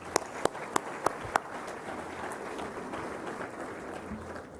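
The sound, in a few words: audience applause for sponsors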